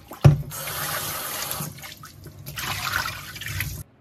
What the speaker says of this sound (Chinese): 我們給它淘洗一下。